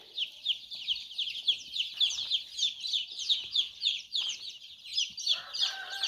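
Many chicks cheep in a rapid, overlapping chorus of high peeps inside a greenhouse, continuous and close, with faint scratching underneath.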